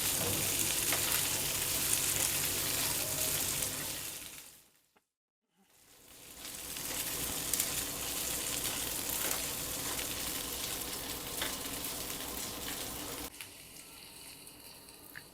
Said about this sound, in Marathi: आता याच बटरमध्ये मी हे उकडलेल्या बटाट्याच्या फोडी आहेत त्या घालते। त्या पण आपल्याला हलक्या भाजून घ्यायच्या।